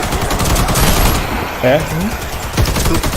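Rapid automatic gunfire rattles through a video game scene, bursts of shots mixed with game sound effects and a voice speaking over the shooting.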